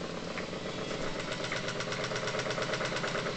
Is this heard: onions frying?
no